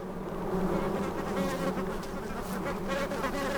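Bees gathering pollen and nectar from blooming prickly pears in the Sonoran Desert make a thick, unbroken buzzing hum, loud and sustained, with many insects droning together close by.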